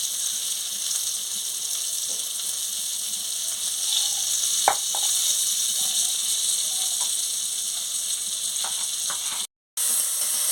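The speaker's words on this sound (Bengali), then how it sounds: "এই পটলটাকে একটু ভালো করে ভেজে নিচ্ছি।" Pointed gourd (potol) slices fry in hot oil with a steady, close sizzle and hiss, broken by a few soft clicks and pops and one brief dropout near the end.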